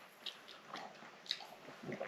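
Crunchy chewing of steak and ale pie with pastry, close up and fairly quiet, a few crisp bites and squishy mastication spread over about two seconds with no talking.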